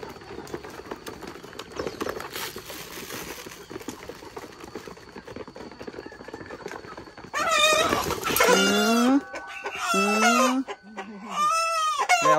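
A chicken being caught squawks and clucks loudly and close by in several harsh bursts, after a stretch of rustling, shuffling handling noise.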